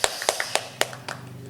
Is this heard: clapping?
yes